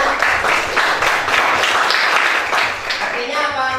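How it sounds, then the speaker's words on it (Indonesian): Applause from a classroom of students clapping for a classmate, a brief ragged burst of hand claps mixed with voices and chatter, fairly close and loud. "kita kasih aplaus temannya"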